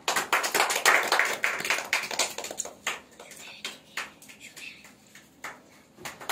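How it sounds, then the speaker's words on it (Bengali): An audience bursts into dense applause at a felicitation ceremony during a cultural festival in Naihati. The clapping is loud for about three seconds, then thins into scattered, fading claps. "জোরে হাততালি"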